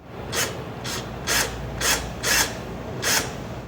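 A drill fitted with a bolt extractor, running in reverse, bores into a broken bolt in about six repeated grinding bursts of rasping, scraping metal, close and loud against a steady mechanical hum.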